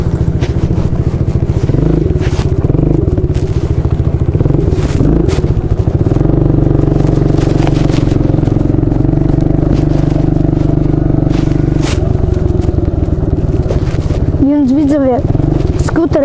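Kayo 110 quad bike engine on a first ride, a steady close-up rumble with rattling and scraping from the machine, and a brief voice near the end.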